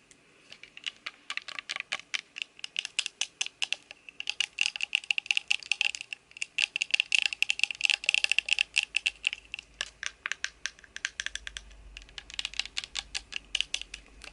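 Rapid, irregular tapping with slightly rubberized fake fingernails, crisp clicky bursts close to the mic, loud and steady across the whole stretch with brief pauses, no talking.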